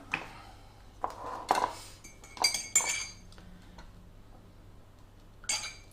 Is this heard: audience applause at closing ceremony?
no